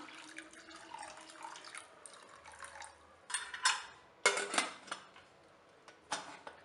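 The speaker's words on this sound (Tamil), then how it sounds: "தேவையான அளவு தண்ணி விட்டுக்கலாம்" Water poured into a pressure cooker while cooking poli, a steady faint trickle broken by louder splashing bursts and light metallic clinks of the pot, with no talking.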